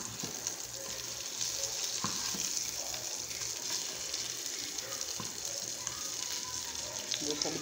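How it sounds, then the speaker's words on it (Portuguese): Continuous frying sizzle from breaded hake fillet in oil in a pan, a steady bright hiss with small crackles and occasional soft clatter, fairly quiet throughout. "Eu passei no ovo, na farinha de rosca, e agora estou fritando."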